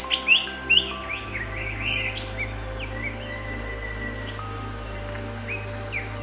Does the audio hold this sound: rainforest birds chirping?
yes